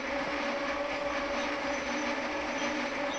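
A train in a video game drawing to a stop at Stranraer Town station near the buffers, with a steady rolling rumble and wheel noise that stays loud and even, no voices.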